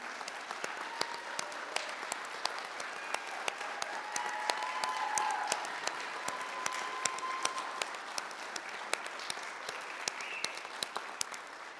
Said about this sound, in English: Just for one last round of applause, if all the graduates would stand so everybody can acknowledge them.